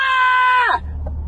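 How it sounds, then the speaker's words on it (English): A woman screams in one sustained, loud, high cry that breaks off and falls away within a second, followed by quiet room noise. "What the hell you keep screaming at me for?"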